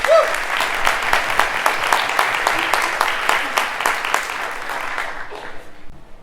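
Audience applause greeting Karen as she takes the stage at a neighbourhood party: a steady, dense patter of many hands clapping for about five seconds, then thinning out and fading into quiet.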